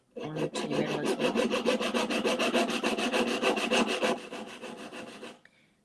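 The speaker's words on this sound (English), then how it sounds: "Now I've just really sawn about 1/3 of the way in" Hand saw cutting into metal stock for a wishbone ring, a rapid, even series of close rasping strokes for about four seconds, tapering into a few softer strokes before stopping.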